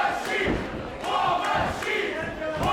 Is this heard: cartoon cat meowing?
no